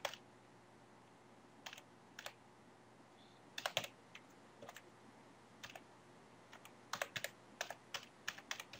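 An email address is typed on a computer keyboard into a registration form, faint scattered keystrokes in short irregular runs over a quiet room hiss.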